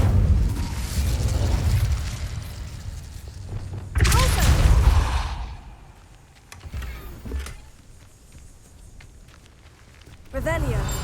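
A fiery Incendio spell bursts out in Hogwarts Legacy, a loud roaring whoosh at about four seconds that decays over a second, set among quieter game ambience and a few smaller impacts, with another burst near the end.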